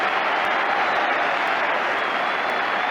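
A Tottenham home crowd in 1984 roars and applauds during a football match, a dense, steady wall of cheering and clapping at constant loudness with no clear breaks.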